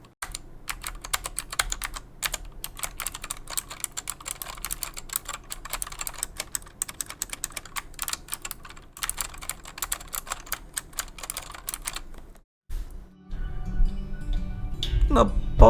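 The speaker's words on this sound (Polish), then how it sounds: "Może przybliżę mikrofon wystarczająco blisko niej i posłuchacie, jak brzmią klawisze." Rapid, steady clacking of mechanical keyboard keys, close and crisp, running continuously before a brief pause and a low rumbling handling noise at the end.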